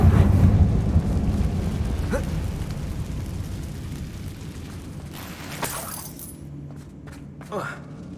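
A Confringo explosion spell cast in Hogwarts Legacy, in a closed mine that looks like a tomb, gives a few sharp, bright bursts over a loud low rumble that fades gradually, with a voice heard in the scene.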